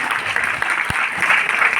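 An audience applauds at a talk in Hindi, a dense continuous burst of clapping filling the moment.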